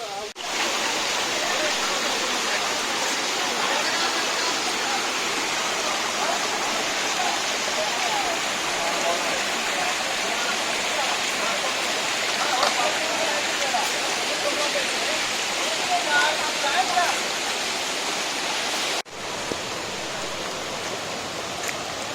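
Ramasari waterfall in Lankamala forest roars as a steady, dense wash of falling water, heard from nearby above the falls, continuous and unbroken throughout.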